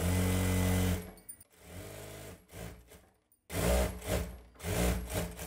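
Sewing machine running along the edge of a cotton saree, loud and near, in two bursts of steady whirring with a brief pause between them.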